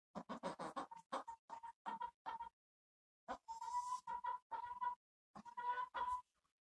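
A hen clucks in short repeated bursts near at hand, a quick run of clucks followed by a pause and then more drawn-out, throaty clucking calls, with no talking over them.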